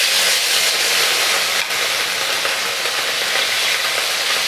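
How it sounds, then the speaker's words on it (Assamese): Fish sizzles loudly in hot mustard oil in a pan, a dense continuous frying hiss heard up close throughout. "মাছখিনি ফ্ৰাই কৰিম"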